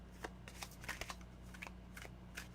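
Tarot cards are shuffled close by in a quiet room, giving a run of soft, papery riffles and rustling bursts in an uneven rhythm.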